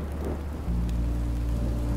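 Rain and thunder in the Minecraft Story Mode video game, a continuous hiss of rainfall with a deep low rumble of thunder rolling in partway through and sustaining to the end, without talk.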